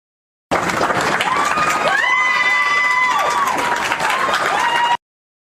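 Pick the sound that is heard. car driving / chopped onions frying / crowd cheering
crowd cheering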